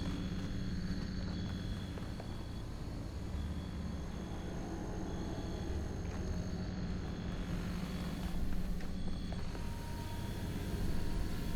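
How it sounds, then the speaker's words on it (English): A drone in the video game The Talos Principle II gives a steady mechanical buzzing hum with tonal whine, continuous throughout under faint game ambience, with no talk. "I keep hearing the buzzing sound, but I don't see the drone."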